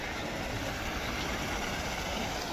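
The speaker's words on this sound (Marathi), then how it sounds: "दुपारच्या वेळी आता मोटर चालू केलेली आहे" A solar-powered water pump motor runs at a farm exhibition, a steady, even broadband whir and rush heard alone at moderate level for the whole short stretch.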